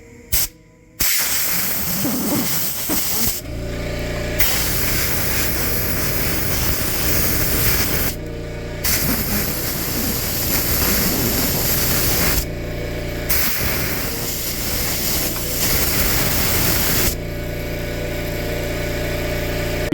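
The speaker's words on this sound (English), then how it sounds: "I've blown everything off with the air compressor" An air compressor chuck blows compressed air in long, loud hissing bursts while parts of an arcade trackball are cleaned. The hiss stops briefly several times before starting again.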